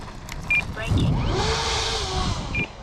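An E-Flite Draco large STOL RC airplane's electric motor whines through reverse-thrust braking on landing, with a rising and falling motor hum and brief electronic beeps, moderately close.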